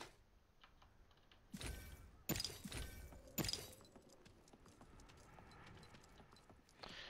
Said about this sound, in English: the hoofs sound different now